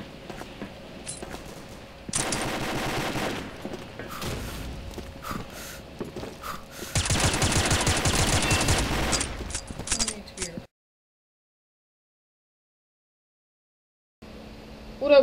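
M4A1 SOPMOD rifle fire in the Combat Arms video game comes in two sustained automatic bursts, each lasting a few seconds, mixed with game noise and some talk, followed by near silence and a sharp final pop.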